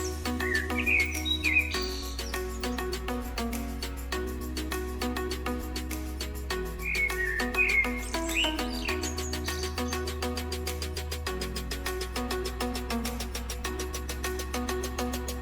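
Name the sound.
African Grey Parrot calls and whistles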